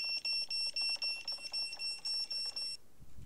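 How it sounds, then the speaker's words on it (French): A repeating electronic beeper alarm in ARMA 3 sounds in quick rhythmic pulses, about ten high beeps in steady succession, then cuts off abruptly near the end, quiet background otherwise. "Tac, j'éteins mon bip."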